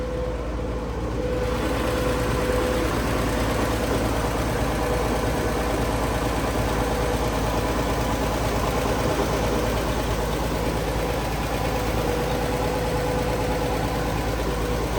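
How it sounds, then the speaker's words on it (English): A 1958 Chevrolet Bel Air's original inline six idles steadily and quietly nearby, an even low mechanical chug with faint ticking running unbroken throughout, no talking. "runs pretty good. It's a quiet, you know, little inline six"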